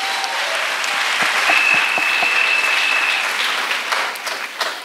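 A church congregation claps together in a dense, sustained burst of applause that stays loud throughout before thinning slightly at the end.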